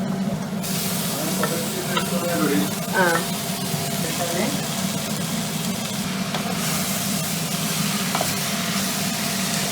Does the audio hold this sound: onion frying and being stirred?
yes